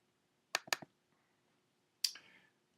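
Mouse clicks on a course web page, two quick close clicks in succession followed by a single click a moment later, crisp and isolated against near silence.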